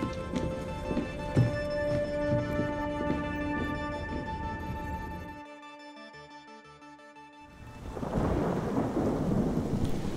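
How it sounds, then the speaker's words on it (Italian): A thunderstorm in a Black Ops 6 Zombies cutscene: heavy thunder rumbles beneath steady rain over a humming musical drone, going briefly quiet before a fresh burst of storm noise returns loudly. "Ma la tempesta peggiora!"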